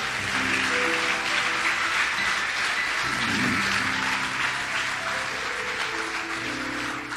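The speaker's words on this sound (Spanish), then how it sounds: "Dale un fuerte aplauso al Señor" Congregation in a church service applauding loudly and steadily for about seven seconds, a dense continuous clatter of many hands with faint voices and a low tonal hum underneath.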